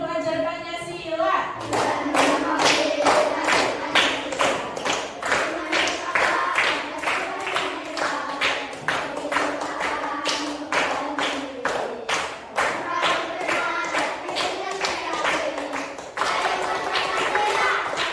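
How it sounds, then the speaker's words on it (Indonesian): Primary school class standing together performs the Pancasila student profile clapping routine, a long run of sharp rhythmic group claps in patterned bursts, with children chanting along throughout and a teacher's voice at the start. "Tepuk profil pelajar Pancasila."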